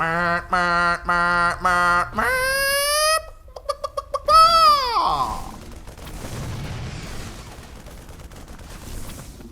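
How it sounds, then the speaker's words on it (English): A car alarm made from a chicken's clucking sounds in loud, pitched, repeating bursts and electronic chirps, followed by a quieter noisy stretch. "How in the hell did a chicken make it into a car alarm sound?"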